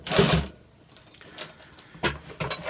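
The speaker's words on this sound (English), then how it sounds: "You can just sew right over this coil zipper." A heavy-duty sewing machine stitching over a coil zipper while sewing a 6x4 first aid pouch, heard as short bursts of mechanical whirring and clatter separated by quiet pauses.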